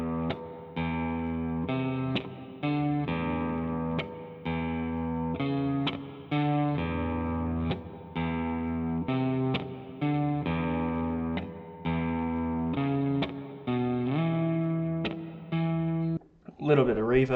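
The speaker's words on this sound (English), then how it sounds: "Bass and guitar mimicking each other." In a song mix, bass and guitar play matching riffs in unison, a thick distorted, chorus-tinged tone repeating a steady phrase with short gaps, ending in a brief burst of effects.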